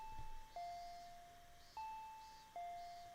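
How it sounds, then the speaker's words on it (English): A two-tone electronic doorbell in the video game Higurashi: Meakashi chimes several times in a row, clear and fairly close, each ding-dong ringing out with no voices. "I heard the doorbell ringing."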